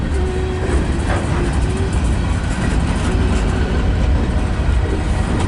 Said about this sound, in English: This train's going slow.